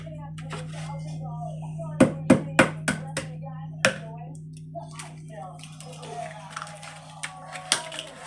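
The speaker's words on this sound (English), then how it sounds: "we're gonna crack it like this, open it up, and put it in there, put the shell in the bowl" Eggs cracked into a bowl one after another, with a series of sharp taps and cracks in a quick cluster followed by scattered softer ones, while people talk over a steady background hum.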